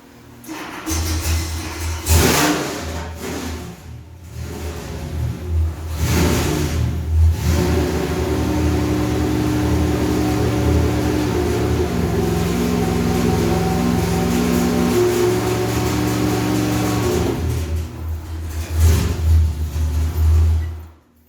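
A 427 LS3 V8 on an engine dyno, revving hard in short bursts and then held at a steady loud roar for about ten seconds before easing off, with a couple of further blips, close and powerful.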